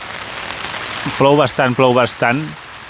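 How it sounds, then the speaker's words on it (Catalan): Heavy rain falls on a tent in a steady, close hiss of drops throughout, and a voice speaks briefly over it partway through. "Plou bastant."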